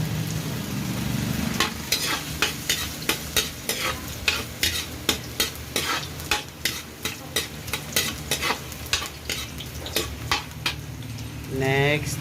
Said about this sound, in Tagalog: pinainit ng mantika sa kawali, at pagigisa na tayo ng ating sarsa. Unahin kong ilagay ang luya para maluto siya.